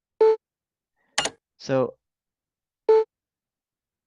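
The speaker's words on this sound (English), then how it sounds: "that beeping is driving me crazy" A computer gives short electronic beeps, two identical tones spaced a few seconds apart, close and clear, with brief speech between them.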